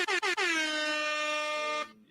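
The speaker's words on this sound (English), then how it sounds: "Where my air horn at?" A loud air horn: three quick stuttered bursts, then one long sustained blare that cuts off abruptly.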